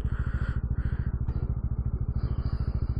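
Honda CBR150R motorcycles on a group ride give a loud, close engine note with a fast, steady pulsing throb throughout, and no talk over it.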